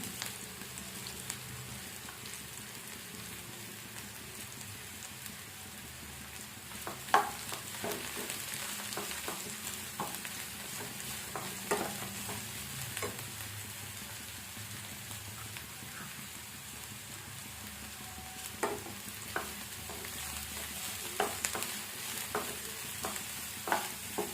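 Chopped green chillies and cabbage fry in a pan with a steady sizzle, broken by scattered clicks and scrapes of stirring; no one speaks.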